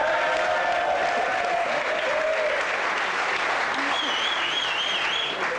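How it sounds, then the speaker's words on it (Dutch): Studio audience on a Dutch television dating show bursts into sustained applause, a dense wash of clapping that stays strong throughout, with faint tonal sounds and voices mixed underneath. "Applaus!"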